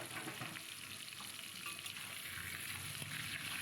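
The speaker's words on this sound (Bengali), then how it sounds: "চাপা দিয়ে দিচ্ছি হয়তো ফটাস ফটাস ফাটতে শুরু করে দিয়েছে" Tengra fish frying in a covered wok, a soft, steady sizzle of hot oil heard faintly under the lid, with no voices.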